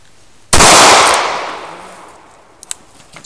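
A single loud gunshot cracks at close range during target shooting, its blast decaying over a couple of seconds, followed by a couple of faint clicks.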